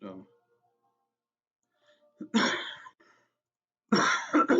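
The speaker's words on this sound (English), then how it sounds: "Sorry for all the coughing." A short cough at the start, then after a quiet pause two louder, harsh coughs close to the microphone.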